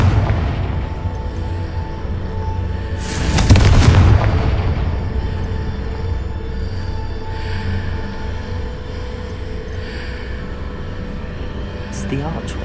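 A Confringo spell explosion bursts in the Hogwarts Legacy video game, a loud broadband boom lasting about a second over a steady low rumble of game ambience.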